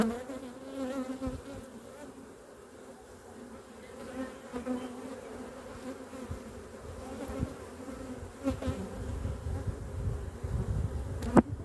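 Honeybees buzzing steadily and close while a colony is moved into a new hive, a continuous insect drone with a few sharper knocks and handling noises near the end.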